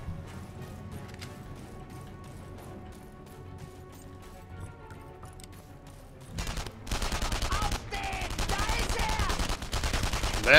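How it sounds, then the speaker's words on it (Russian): Gunfire in the World War II shooter Enemy Front: scattered shots at first, then dense, loud rapid automatic bursts rattling close by for the last several seconds. "Эй, куда я стреляю,"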